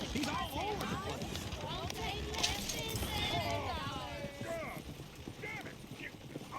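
Horse hooves clip-clop steadily on a dirt street in a Western town in Red Dead Redemption 2, running under continuous overlapping talking and shouting.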